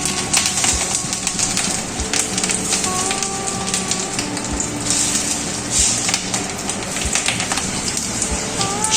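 Fish roe fritters fry in hot mustard oil, making a dense, continuous crackling sizzle with sharp pops spread across the length and a few faint high tones in the background, with no voices.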